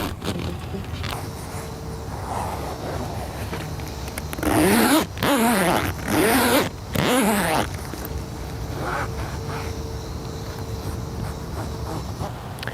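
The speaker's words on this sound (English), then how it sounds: "take your zipper head, run it up and down, spread that zipper lube out a bit" A zipper on a car soft top is run back and forth, giving a few loud close rasping zips in the middle, with quieter background noise before and after.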